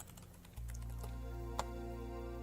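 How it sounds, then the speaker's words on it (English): Computer keyboard typing during a Stardew Valley Winter Star Feast session, a quick burst of key taps over a steady low hum of game music, no talking. "Oops, typing in the wrong window."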